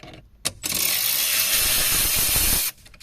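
A dashboard screw on a VW Touareg being loosened, heard as a loud, steady whirring buzz from a power driver for about two seconds, close up with no voices.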